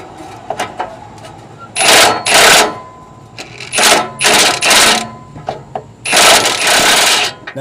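A ratchet removes a 13 mm exhaust bracket bolt on a 2004-2012 Mitsubishi Galant 2.4L, with loud, close bursts of rapid clicking in several runs separated by short pauses.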